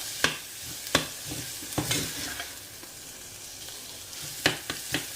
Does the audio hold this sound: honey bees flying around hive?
no